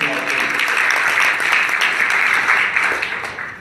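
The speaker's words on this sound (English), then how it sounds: "give my buddy, and my coach Andy Shearer a round of applause" A live audience breaks into a short burst of dense applause for a coach introduced on stage, loud and continuous before fading slightly at the end.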